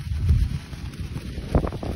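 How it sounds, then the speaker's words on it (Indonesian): Strong storm wind buffeting the microphone while a kite is flown, a steady low rumbling roar with gusts swelling and a sharper blast near the end. "Mantap guys, angin badai ini, angin badai"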